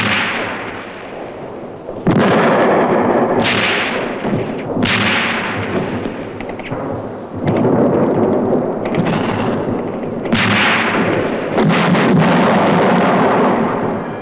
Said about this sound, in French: Notre artillerie essaie de contenir la ruée allemande.